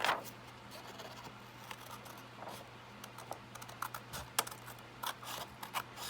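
Scissors snip through junk mail paper in a quiet room, a series of short faint crisp clicks and cuts in irregular rhythm over a low background hum.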